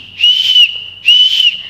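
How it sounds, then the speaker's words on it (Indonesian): A plastic whistle blown loudly twice, each shrill, steady blast lasting about half a second with a brief gap between, close and alone with no talk. "Ada juga yang seperti Butuin punya ini dari plastik yang mengeluarkan suara nyaring ketika ditiup seperti ini."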